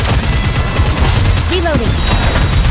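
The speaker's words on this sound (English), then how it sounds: "Keep shooting!" Gunfire from the mobile shooter game Nikke: Goddess of Victory, a steady, dense stream of loud shots with game music running underneath and a short rising tone partway through.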